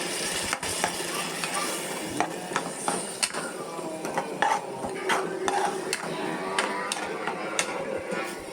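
Soft sizzling in a pan as tomatoes and curd sauté for sundal biryani, with scattered clicks and scraping knocks of a utensil stirring, fairly quiet and close.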